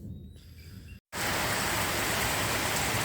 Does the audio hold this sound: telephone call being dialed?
no